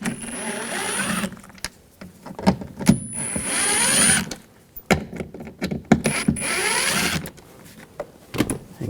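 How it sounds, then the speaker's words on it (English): A ratchet with a T25 socket clicks in short bursts while screws come out of a 2004-2009 Audi A4 Quattro rear door panel, close and mechanical with brief pauses between turns. "Using a T25 socket, take these screws out."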